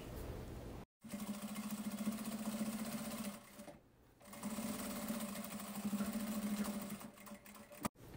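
Sewing machine stitching fabric for a handmade case, a steady close whirring hum in two long runs, broken by a brief pause and a short gap before it starts again.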